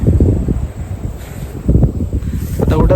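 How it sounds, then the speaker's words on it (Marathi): Strong gusts buffet the microphone on a hilltop viewpoint, giving low rumbling wind noise that rises and falls in waves. Someone speaks briefly in the middle. "वारा पण खूप सुटलाय."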